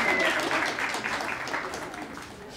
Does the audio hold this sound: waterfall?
no